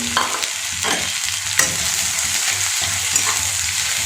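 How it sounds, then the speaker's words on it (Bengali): Chopped onion, ginger, garlic and green chili frying in hot oil, a steady loud sizzle with stirring scrapes and a few sharp spatula knocks against the pan, no voices. "তেলটা গরম হয়ে গেছে এখানে যে কেটে রাখা পেঁয়াজ আদা রসুন কুচিগুলো আছে লঙ্কা কুচি সেটা দিয়ে দিলাম"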